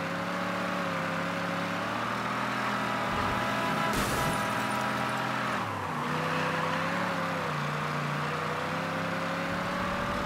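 Car engine in Mafia III droning steadily at close range through a continuous ride, with a brief burst of louder noise partway and a slight shift in pitch after, no voices.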